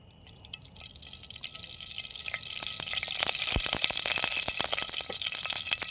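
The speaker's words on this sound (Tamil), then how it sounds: "ஒரு நூறு எம்எல் கடலெண்ணெய் சேர்த்திக்கலாம்" Groundnut oil poured into a hot kadai, a soft rising splash and crackle building over several seconds with brief sharp pops, fairly close and with no talk.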